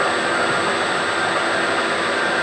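Milling machine making a spring pass to clean up a metal surface, a steady loud whirring hum with constant broadband noise throughout.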